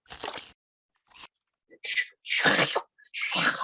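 A sound effect of melting bone: a run of wet, squishy crunches and scraping smears, close up, in uneven bursts that grow denser toward the end.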